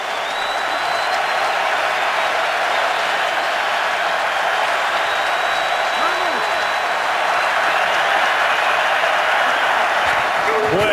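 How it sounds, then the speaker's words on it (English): A football stadium crowd at a Cowboys at Titans game roars and applauds on third down, a steady loud wash of cheering that swells slightly and holds throughout, with a commentator's voice faintly under it. "Crowd comes alive."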